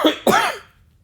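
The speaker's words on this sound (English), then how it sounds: "Sorry about the cough" Two close, harsh coughs in quick succession from a lecturer during a math lesson, the second longer and stronger, then quiet.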